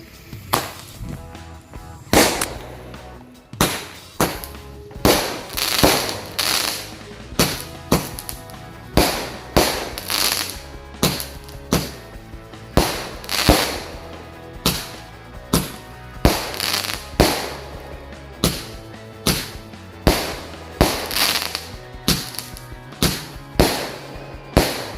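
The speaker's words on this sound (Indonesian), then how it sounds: "menyalakan 2 buah mercon Roman Candle yang 8 shoot" Two 8-shot Roman candle fireworks fire at night during a village celebration, a long run of loud, sharp pops and bangs coming in irregular bursts, close and dominant with no talking.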